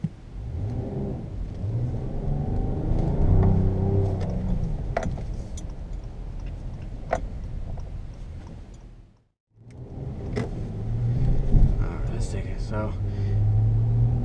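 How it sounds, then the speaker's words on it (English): A 2017 Acura MDX V6 engine rumbles and revs steadily while driving, close and continuous, with a brief dropout near the end, while someone talks over it. "that's a great sounding V6"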